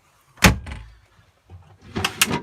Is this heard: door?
yes